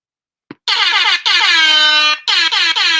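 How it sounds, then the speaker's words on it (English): A loud, close air horn blasts in three long, piercing bursts with short gaps between them, following a brief click. "I have an air horn for this."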